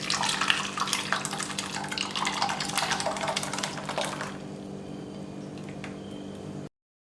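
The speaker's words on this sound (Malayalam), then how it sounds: "ഒരു പുഡിംഗ് ട്രേയിലേക്ക് ഒഴിക്കാം." Rambutan pudding mixture streams into a pudding tray with a close, continuous liquid gush for about four seconds, then fades to a faint trickle and stops.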